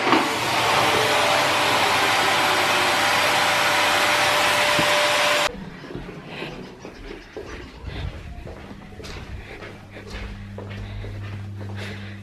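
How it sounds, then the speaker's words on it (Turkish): A vacuum cleaner roars loudly and steadily while cleaning a bed, then cuts off abruptly, leaving quieter room noise with scattered knocks and shuffling. "süpürge yapıyor."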